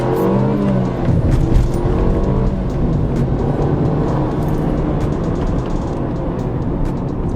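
A 2018 Mercedes-Benz CLA 250 4matic accelerates hard, its engine rising in pitch through the revs with a loud, close, continuous roar and road noise.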